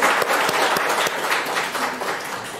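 A church congregation claps together during a Sunday service, with brisk, even applause that fills the room for a few seconds and then begins to thin out.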